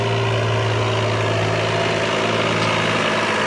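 Massey Ferguson 9000 tractor engine idling as it warms up, a loud, steady low diesel hum with a constant droning tone that runs unbroken through the whole stretch, with no talking.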